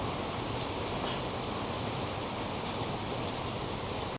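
Steady rain falling outdoors during a family vacation in the Philippines, a dense even hiss that continues unbroken and fairly quiet throughout, with no talk.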